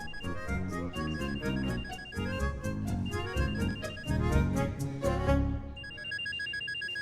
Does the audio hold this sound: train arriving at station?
no